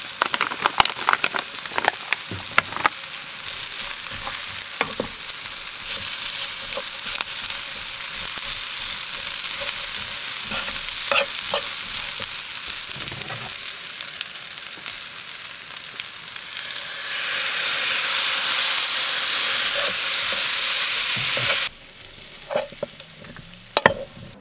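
Leftover rice fries in a pan with a steady, loud sizzle while a utensil stirs and scrapes through it, occasional clicks breaking the hiss before it suddenly drops away near the end.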